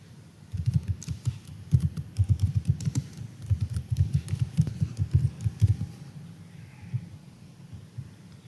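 Steady typing on a computer keyboard while entering text into a Word document, quick irregular key clicks in bursts that pause near the end, close and moderately loud with no talking.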